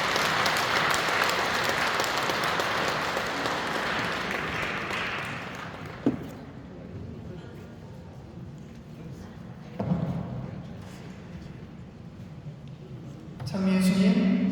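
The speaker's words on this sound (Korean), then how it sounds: "큰 박수로 맞이하겠습니다" Loud audience applause welcomes a Catholic priest to an Advent lecture in an indoor hall, a dense clapping wash that fades after about five seconds, followed by quiet room noise, a couple of thumps and a brief voice.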